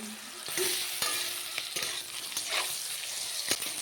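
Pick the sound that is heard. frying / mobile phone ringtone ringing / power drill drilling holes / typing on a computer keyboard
frying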